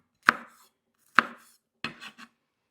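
Vegetables are chopped into small corn-sized pieces with a knife on a board, three crisp separate chops spaced under a second apart, the last one a quick double cut, close and clear.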